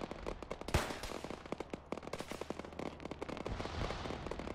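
Rapid bursts of gunfire in the video game Arma 3, aimed at a vehicle's tires, crackling in dense irregular volleys with sharp loud reports throughout.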